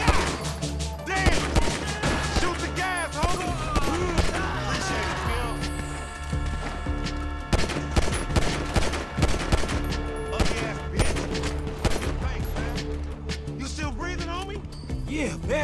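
Gunfire in GTA V, rapid shots and bursts crackling throughout over a dense, busy game mix of music and effects, with voices talking over it.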